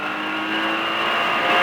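A race car engine on track holds a loud, steady tonal drone close by, then rises in pitch toward the end as it revs through a gear change.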